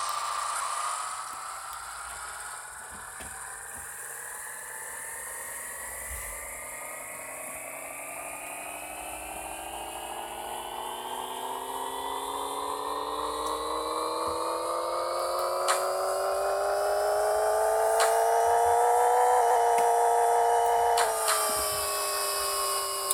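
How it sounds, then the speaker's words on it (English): Car engine revving on a dyno in the Pixel Car Racer video game, a synthetic whine climbing steadily in pitch through a long pull, peaking and then cutting off sharply, with no speech. "let's see what the dyno says"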